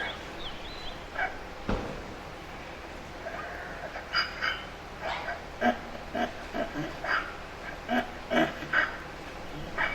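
Stock dogs at a stock dog demonstration during a Pioneer Days outdoor event give a run of short, fairly distant barks and yelps, scattered irregularly across the scene amid faint background voices.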